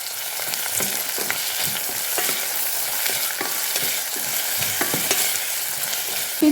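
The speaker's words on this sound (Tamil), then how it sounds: "சின்ன வெங்காயம் உள்ளி பச்சை மிளகாய் எல்லாத்தையுமே நாங்கள் போட்டுட்டோம் இப்போ நல்லா இது வதங்க வேணும்" Shallots, garlic and green chilli sautéing in a hot pan, a bright steady sizzle with crackling spits and occasional stirring scrapes, close and alone.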